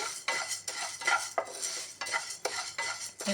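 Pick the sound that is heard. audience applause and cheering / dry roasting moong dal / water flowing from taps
dry roasting moong dal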